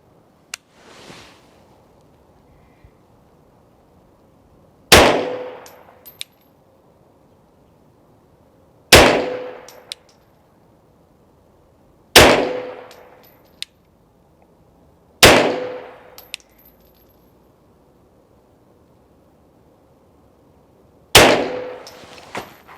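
Pistol shots from a Tisas 2011 Carry DS at an outdoor range ring out as six sharp, loud single reports spaced several seconds apart, each with a short decaying tail.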